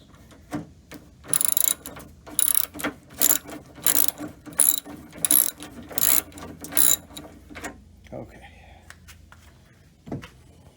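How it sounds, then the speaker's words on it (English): An 11 mm bolt on a 1978 Corvette C3 window is loosened with a hand ratchet, giving about a dozen close, crisp clicking bursts in a steady rhythm, followed by a few quieter handling knocks near the end. "mine is a 11 millimeter, and just ratcheting this loose"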